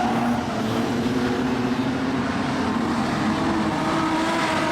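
Production sedan race cars racing at Kingaroy, a steady loud roar of engines with a sustained droning note and no clear pass-by peaks.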